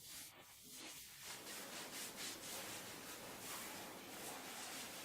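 A chlorhexidine-soaked wipe is rubbed across surfaces before a mesotherapy procedure, giving a soft, continuous swishing and rubbing that grows slightly steadier after a faint start; quiet and close, with no speech.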